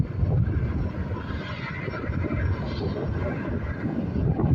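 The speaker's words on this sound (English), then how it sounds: "the biggest plane out here. Probably the 767," A large airliner, likely a Boeing 767, at Lanzarote Airport, its engines a loud, broad, sustained roar that swells and rumbles steadily throughout.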